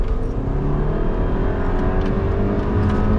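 A 2013 Audi Q3 Ambiente crossover with four-wheel drive, 170 version, accelerating hard, a loud steady engine drone and road rumble heard from inside the cabin, no talking.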